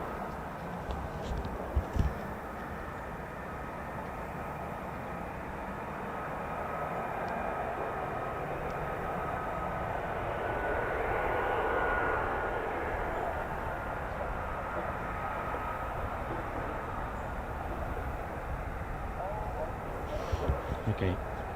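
An F-35 Lightning stealth fighter jet taxis at a distance, a steady broad rumble and whine that swells midway before settling back, with people talking over it.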